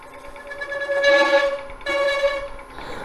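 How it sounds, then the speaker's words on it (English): A sharp negative rake scraper chatters against a workpiece on a wood lathe, giving a loud tonal squeal in two bursts of about a second each over a low hum, with no voices. "that sound is a vibration, and that's what's causing this."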